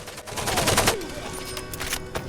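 AK rifle bursts and grenade blasts in the game S.T.A.L.K.E.R., a loud cluster of rapid shots in the first second followed by a lingering echoing tail with a few more scattered reports.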